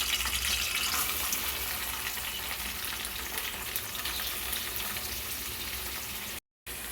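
Onions and curry leaves frying in about four spoons of oil, a steady loud dense sizzle running throughout close up, cutting out abruptly near the end, with no voices.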